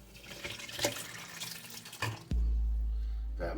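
Liquid poured into a pot of chicken soup, starting with scattered splashes and clatter, then turning into a steady, sustained pour near the end.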